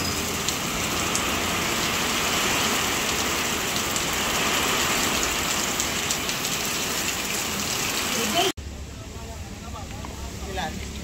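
Heavy rain pours down steadily as a dense, loud roar, then drops abruptly to a quieter patter near the end.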